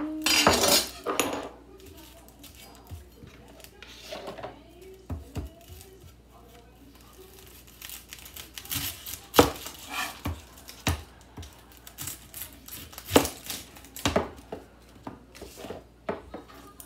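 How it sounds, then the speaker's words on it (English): An onion being cut with a knife in a home kitchen for a new dinner recipe, with sharp knife clicks and board knocks scattered irregularly among quieter clatter of utensils, close and moderately loud. "Let's cut up this onion here."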